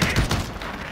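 Call of Duty Warzone gunfire crackles in a dense, loud volley of overlapping shots lasting about a second.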